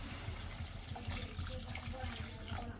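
Water poured into a pan of potato kurma with butter beans, turmeric and coriander powder, a steady soft splashing that fills the whole moment without talk.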